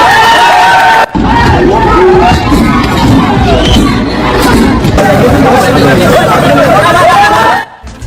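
An angry crowd riots at former Nepali prime minister Prachanda's house in Nepal, a dense roar of shouting and chatter with whoops and cries, loud and continuous, while a reporter talks over it.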